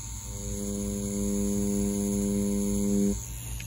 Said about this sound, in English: So as you can see, I'm filling it in with the 5 round liner.